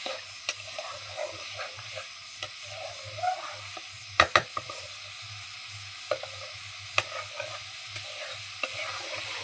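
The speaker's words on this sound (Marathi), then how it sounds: "तर आपला मसाला भाजत आला ना." Masala roasts in a pan for a village-style egg curry. It sizzles with a steady low hiss, and a spoon scrapes and clinks against the pan in scattered strokes, with a sharper cluster of clatters midway, all close and fairly soft.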